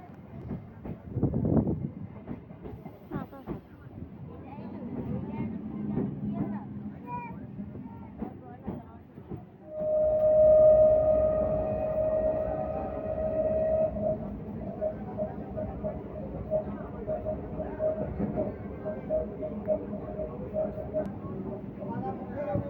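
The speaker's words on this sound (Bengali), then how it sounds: "আমাদের ট্রেন এসে গেছে" Train pulling into Sangrampur railway station, a steady rumbling roll with a sustained horn blast partway through, close and fairly loud, continuing under platform noise.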